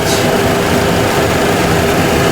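Aircraft engine number 1 spools down after its start lever is cut off, giving a steady loud whine and rumble throughout without a clear drop, with no voices.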